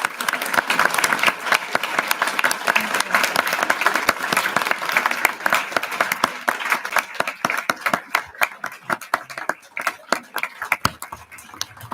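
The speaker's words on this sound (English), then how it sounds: "Let's first give our tenure recipients a round of applause." A large audience at a school board of education meeting claps for tenure recipients, dense sustained applause that thins toward the end into scattered individual claps.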